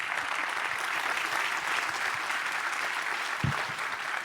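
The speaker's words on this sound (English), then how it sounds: "Please, a big round of applause for our panelists here." Sustained audience applause at a 2025 ocean-themed conference, clapping for a panel steadily and evenly throughout, with dense, continuous hand claps filling the room and no voices audible over it.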